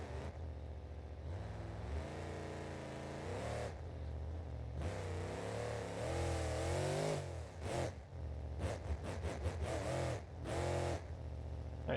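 A boosted monster truck engine in a driving game revs and drones steadily, pitch wavering as throttle is fed in, then breaks into a run of quick stuttering bursts near the end, loud and close.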